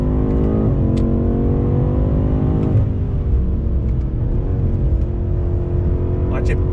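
A 2020 BMW M8 Gran Coupe accelerates hard, its engine note climbing steadily with sharp drops at each gear change, loud and close throughout.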